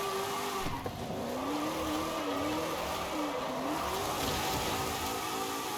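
A car in the Forza racing game squeals its tires in one long, wavering whine over a constant engine and road roar, with no talk.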